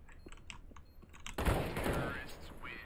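A Nova shotgun fires in a CS:GO match, one heavy close blast cutting through soft keyboard clicks and rattling into a short noisy tail.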